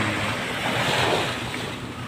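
Sea waves wash onto a beach in Batangas, with a broad steady surf roar up close, mixed with wind buffeting the microphone.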